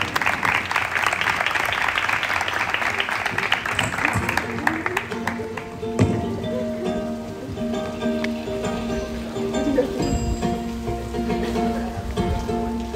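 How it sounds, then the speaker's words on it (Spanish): Audience applause at a secondary-school graduation ceremony, dense clapping for the first few seconds that thins and fades while a few voices and room sounds carry on. "Un aplauso para ella."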